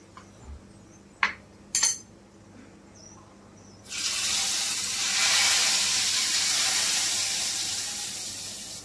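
Cashew pieces dropped into hot ghee in a pan for shahi paneer: after a couple of small clinks, a loud, steady sizzle bursts in and keeps hissing evenly to the end.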